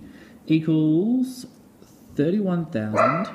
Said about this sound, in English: that's my dog in the background barking